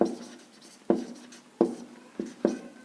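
A pen scratches out a geometry construction on paper in five separate short strokes, each a crisp scrape that fades quickly, close and clear with quiet pauses between.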